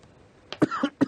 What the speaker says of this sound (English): we can see you still have a cough